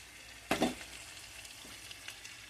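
Fish pieces for a fish curry sizzle in a pan as they are turned, with a brief louder burst of frying early on and then a soft, steady crackle.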